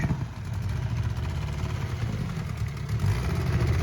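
A 1973 Evinrude 25 hp outboard engine idling on a raft on a river, a steady low, throbbing drone that runs continuously at close range without talk.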